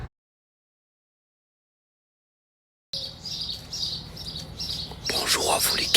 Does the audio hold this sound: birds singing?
yes